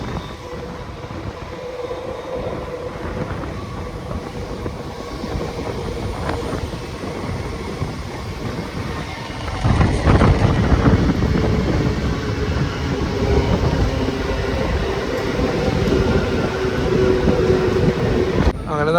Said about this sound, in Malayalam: നമ്മുടെ ഗുരുവായൂർ പാസഞ്ചർ 2 മിനിറ്റ് ഹോൾട്ടിന് ശേഷം ചോറ സ്റ്റേഷനിൽ നിന്ന് എടുത്ത് പോയിരിക്കാം